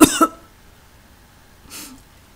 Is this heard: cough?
yes